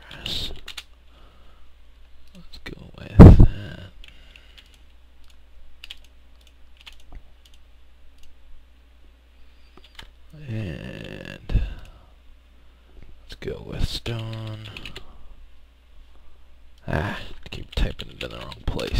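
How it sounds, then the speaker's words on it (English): Computer keyboard typing comes in scattered short bursts of close clicks and taps, separated by quiet gaps, with a louder knock early on and a person murmuring and speaking softly in between. "Gotta type it over here."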